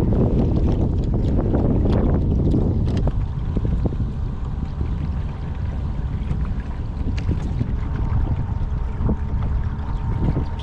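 A small Bixby electric kayak motor runs while the kayak moves across the water, a low continuous hum under heavy wind buffeting and water splashes, loudest at the start.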